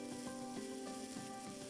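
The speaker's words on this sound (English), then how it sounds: "I'm gonna add our oil to a pan over medium-high heat and stir-fry the vegetables" Mushrooms and vegetables stir-fry in oil in a pan over medium-high heat for Japanese takikomi gohan, giving a steady, close sizzle with faint stirring scrapes and no talking.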